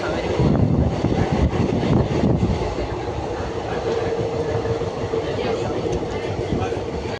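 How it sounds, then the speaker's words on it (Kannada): A train rolls along steadily, its low rumble and rattling wheels continuous throughout, with wind buffeting and a faint background voice early on. "ಈಗ ಟ್ರೈನ್ ಬಿಟ್ಟಿದೆ"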